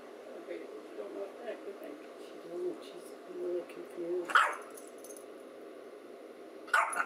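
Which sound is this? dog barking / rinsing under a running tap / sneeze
dog barking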